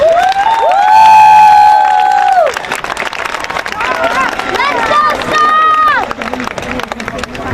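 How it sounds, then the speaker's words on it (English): Graduation audience at Homestead High School applauding, a dense, loud wash of clapping and cheering with a sustained tonal note early on, steady over several seconds. "Please join me in a round of applause for their tremendous academic achievement over the past 4 years."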